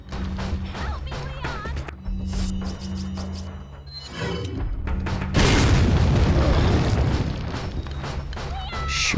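Grenade explosions in Resident Evil 4, heavy booming blasts with crashing debris, the biggest burst loud and rumbling midway, mixed with gunfire and game sounds.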